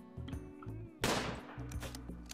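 A single loud, close shotgun blast in RimWorld, sharp and booming, over a steady background of game music and ambience.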